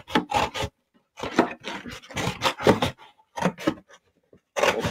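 Scissors cut the front panel out of an empty cardboard cereal box, giving several bursts of rasping, crinkling snips separated by short pauses, close and fairly loud with no talking.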